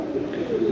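Pakistani Danish pigeons coo in a single low, soft, rolling call, close and clear, with no talk over it.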